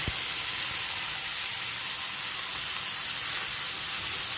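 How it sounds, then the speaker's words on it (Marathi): Chopped onion and curry leaves hitting hot oil with roasted cumin in a pan for dhaba-style matar paneer, giving a steady, loud, close sizzle that holds without a break from start to end and has no talk over it. "आता आपण ह्यामध्ये हे कांदे आणि कढीपत्ता आहे तो घालून घेऊया"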